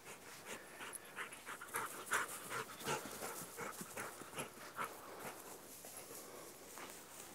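A dog pants steadily and quietly close by, rapid rhythmic breaths continuing throughout with faint shuffling in the background.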